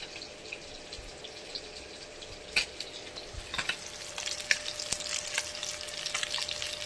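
Bele fish fry in oil in a pan with a soft, continuous sizzle, broken by sharp spits and pops that grow more frequent toward the end.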